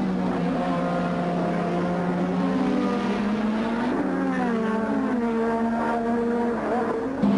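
Formula 1 cars, including a turbocharged Honda-powered car, racing at the 1986 Hungarian Grand Prix: high, whining engine notes climb and fall as the cars pass, layered and continuous over a steady rumble.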